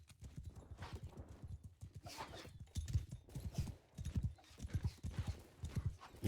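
A horse gallops in the Mount & Blade 2 Bannerlord video game, its hoofbeats thudding in quick rhythmic clusters, fairly faint and steady, with occasional battle noise in the background.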